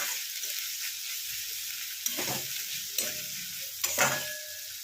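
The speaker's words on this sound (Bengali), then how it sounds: "পেঁয়াজটা একটু ভেজে নেবো, সব মিলিয়ে নেবো।" Onions sizzle in hot oil in a pan for a fish-oil chochori, a continuous bright frying hiss broken by several scraping stirs of a spatula, close and clear with no talking.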